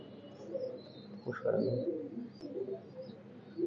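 Oman bloodline teddy pigeons coo softly and steadily with low, throaty calls, a few faint chirps mixed in, close by and with no talking.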